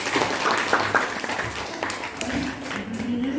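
Classmates applaud a student's group presentation on reaction rates, a brief, fairly close round of clapping in a room, with a voice rising toward the end.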